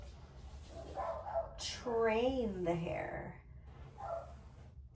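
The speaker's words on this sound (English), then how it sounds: "And my apologies for the barking, you guys. I'm taking care of my little dog." A little dog yips and barks in a few short, high bursts, nearby but fairly quiet, while someone talks over it indoors during hair care.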